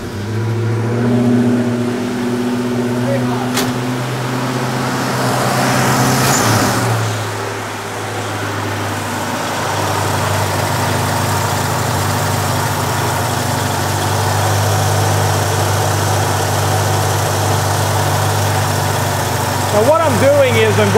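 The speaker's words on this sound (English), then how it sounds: "now I'm going to start the car up and see what we get with the adjustment on this thing" A car engine fitted with a Holley carburetor turns over and settles into a steady, loud idle, its low rumble running continuously close by with slight revving near the end.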